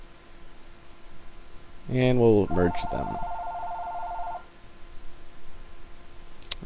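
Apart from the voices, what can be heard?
telephone ringing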